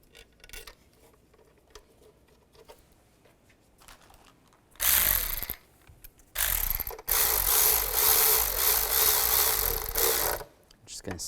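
Ratchet snugging down the throttle body bolts on a 2005-2010 Chevrolet Cobalt, loud close rapid clicking in several bursts, the last one long and sustained, after quieter handling sounds.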